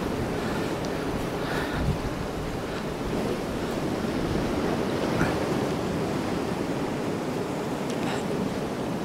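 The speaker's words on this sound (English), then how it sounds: "it's absolutely blowing a gale" Gale-force wind roars across a Northumberland sea shore during rough-ground cod fishing, a steady, loud buffeting rush that hammers the microphone, with surf mixed in and small gust swells throughout, no voices.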